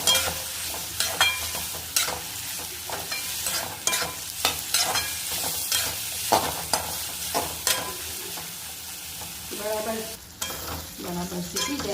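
A spoon scrapes and stirs a ginger, garlic and green chilli mixture in a hot pan, with repeated clattering strokes over a steady close sizzle.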